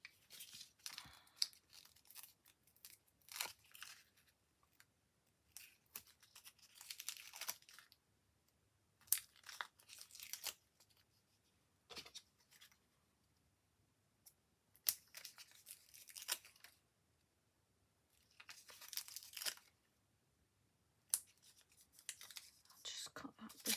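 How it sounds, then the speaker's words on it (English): Scissors snipping paper for handmade card making with stamps, quiet close-up bursts of crisp cutting and rustling separated by pauses. "Just cut that bit off."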